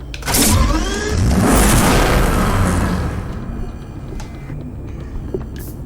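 A Bentley Continental Supersports Coupe engine in the Need for Speed Hot Pursuit video game, a loud roaring rev burst with a whoosh that fades into a lower rumbling idle and faint clicks.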